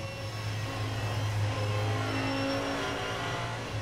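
Race cars at the Nürburgring 24-hour race, a V10 Audi overtaking the V12 Aston Martin as they exit Adenauer Forst, make a sustained loud engine roar with a steady tone and no pauses.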